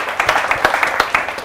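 An audience at a patriotic poetry recital bursts into brief, rhythmic applause, individual claps standing out over a moderate crowd.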